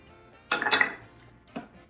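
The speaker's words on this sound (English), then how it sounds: "I'm gonna add the garlic." Garlic tipped into a Power XL slow cooker for oxtail makes a short clattering scrape of utensil on pot, followed by a softer knock a second later, close and quiet otherwise.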